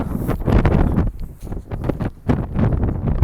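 Gusty wind at Mardin Castle in Turkey buffeting the microphone in loud, uneven rushes with brief lulls between gusts.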